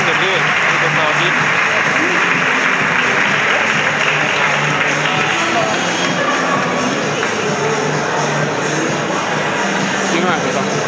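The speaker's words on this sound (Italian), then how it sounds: "Applausi." Sustained, loud audience applause, a dense continuous roar of clapping with voices mixed in throughout.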